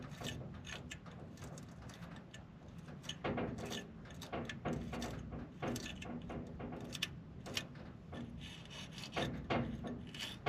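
Close scraping and scrubbing of a dirty distributor rotor from a 1978 Ford F100 that has no spark, heard as continuous gritty rubbing strokes with no pauses.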